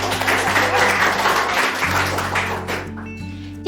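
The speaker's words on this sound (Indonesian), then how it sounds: "beri tepuk tangan untuk kelompok 2" A high-school classroom in a Japanese-language lesson bursts into dense applause for a group presentation, steady clapping that fades out near the end.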